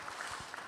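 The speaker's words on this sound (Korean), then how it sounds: "여러분 더욱더 하나님 앞에 영광 잘 돌리도록 격려의 박수 한번 해주시기 바랍니다" A church congregation applauding during a Sunday service, a short burst of dense, steady clapping that fills the room with no voices over it.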